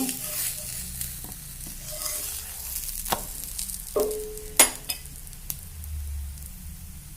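Holige flatbread cooking on a hot oiled pan, with a steady soft sizzle and a few sharp clinks and scrapes from handling it, close by and without talk.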